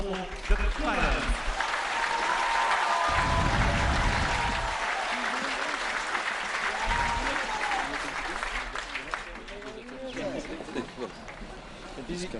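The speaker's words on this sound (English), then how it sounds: "a round of applause please for the Cook Islands" A rugby crowd at a Fiji vs Cook Islands match applauds the Cook Islands team with steady clapping under an open-air announcer's voice and ambient stadium noise.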